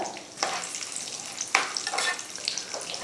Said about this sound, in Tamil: எல்லாம் நெய்யில் வந்து வறுத்துக்கலாம் ரொம்ப கலர் மாறக்கூடாது